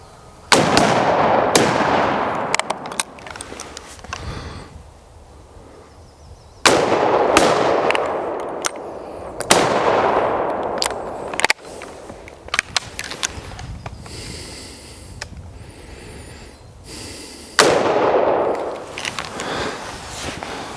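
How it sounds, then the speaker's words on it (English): Rifle rounds fire on the historic 1880s rifle range at Fort Mackinac. About five loud, booming shots come several seconds apart, each cracking sharply and then rolling off in a long outdoor echo. "we're going to fire off a few rounds to show you what it would have been like for the soldiers during the 1880s to actually be practicing on their rifle range"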